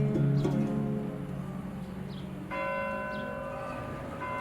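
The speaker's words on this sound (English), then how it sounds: "church bells still ring out in the Armenian quarter even today." Church bells in the Armenian quarter of Isfahan ring with resonant, lingering tones, a new strike joining partway through, while birds chirp faintly in the background.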